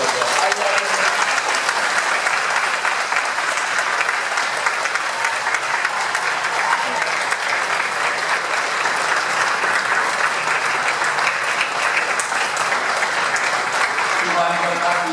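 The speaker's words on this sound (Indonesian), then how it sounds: "mari berikan aplaus yang hangat buat nafiri dan juga doa." A church congregation applauds warmly, a dense, steady clapping from a large crowd that holds at full strength for about fifteen seconds.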